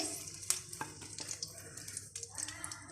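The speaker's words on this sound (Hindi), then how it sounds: "तो अब ये दाल मैं इस घी के अंदर डालूंगी और इसको अच्छा सा भून लेंगे।" Urad dal paste frying in ghee for halwa gives a soft, steady sizzle with faint stirring scrapes and small pops, quiet and close, with no talk.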